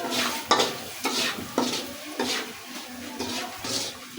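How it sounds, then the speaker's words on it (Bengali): Spiced khichuri with chicken being stirred in a pan, a spoon scraping and turning it in regular strokes about every half second over a steady close sizzle, with no talking. "সব দেওয়ার পরে তারপরে লাড়াচাড়া করে দিবেন।"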